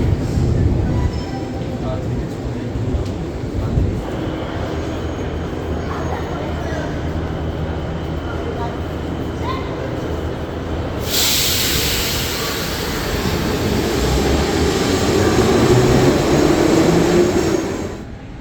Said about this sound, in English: Let's see how fast is the subway here. This is fast.